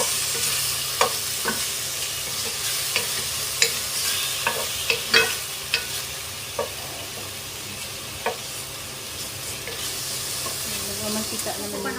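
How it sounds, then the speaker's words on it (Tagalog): Sweet potato, squash and okra fry in a pan, giving a steady sizzle with a dry, crackling texture. Spatula scrapes and stirring clicks land at irregular moments over the frying, with no talk. "Itong iprito muna natin siya para hindi na ako naglagay ng mantika"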